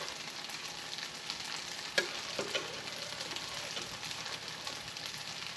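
Honey garlic sauce sizzles quietly in a frying pan while a utensil stirs it, giving a soft steady crackle with a few sharper scrapes and clinks, heard close.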